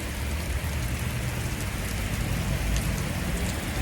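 Steady rain falls outside on a summer day in Montréal, a dense, even hiss of drops that stays loud and unbroken throughout, with no voices.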